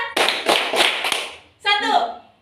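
A group claps in a counted clapping exercise, with a burst of rapid claps followed by a pause and a spoken voice, close and loud.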